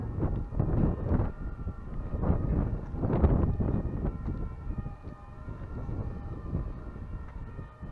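A fire engine siren wails in the distance, partly buried under blustery wind rumbling against the microphone, heard from atop a chimney.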